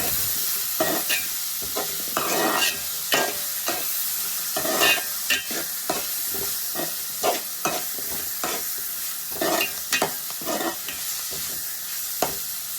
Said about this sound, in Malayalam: ഒരു ചെറിയ തക്കാളി കൂടി മുറിച്ച് നമ്മൾ നമ്മുടെ സവോള ഉള്ളിയുടെ കൂടെ ഇട്ട് വഴറ്റുന്നുണ്ട്